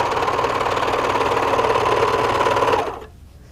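A sewing machine stitches drapery fabric in a loud, steady, rapid whir for nearly three seconds, then cuts off abruptly and leaves near silence.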